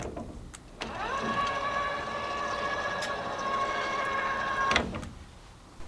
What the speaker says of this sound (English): First up was the Brushed Ultrex steering with the remote.